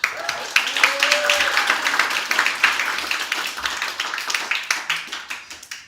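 Audience at an athletics banquet clapping in a steady, rhythmic burst of many hands, close and fairly loud, with brief voices mixed in under the applause.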